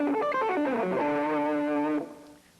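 Electric guitar with effects and distortion plays a fast speed-picked arpeggio at full tempo, a quick run of close notes lasting about two seconds, then ringing out into a fading tail.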